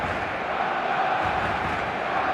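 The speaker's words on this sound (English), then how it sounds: "The stadium is full of noise and energy." A stadium crowd in a football video game, a dense steady roar of many voices filling the space, loud and unbroken for a couple of seconds.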